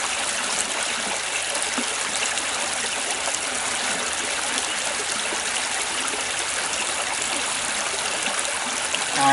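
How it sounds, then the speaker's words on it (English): A small creek flows nearby with an even, unbroken trickling and rushing of water, with no voices over it. "set up next to a nice little creek"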